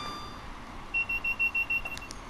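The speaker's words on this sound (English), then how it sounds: "That's the DSD alarm." A DSD alarm sounds in the train-driving game Train Sim World, a series of six short, evenly spaced electronic beeps over a low rumble of cab and track noise, with no talking.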